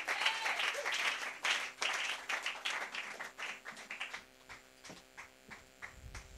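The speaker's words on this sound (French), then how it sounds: "Donnez une acclamation au Seigneur." A church congregation bursts into applause, full sustained clapping that gradually breaks into scattered, separate claps toward the end, with a low hum underneath.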